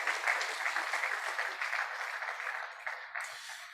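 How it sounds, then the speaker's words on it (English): An audience at an alumni association inaugural ceremony applauds a speaker, a moderate round of clapping from many hands that stays steady for a few seconds, then thins out. "Can we please give him another round of applause?"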